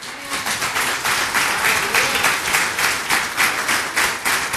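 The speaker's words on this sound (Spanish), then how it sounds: "¿Por qué no le aplaude fuerte al Señor?" A church congregation claps during a Sunday service, the applause moderately loud and rhythmic, with regular pulsing beats as many hands strike together in time.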